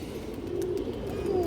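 A large Road Master pigeon at a pigeon seller's coop gives a clear, close, low cooing call that swells steadily over a second and a half, with faint bird sounds behind it.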